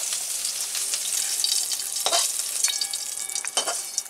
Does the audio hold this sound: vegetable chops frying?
yes